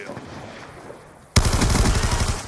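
Gunfire in the Call of Duty video game: after a quieter stretch of game ambience, a loud burst of rapid automatic shots starts abruptly partway through and continues to the end.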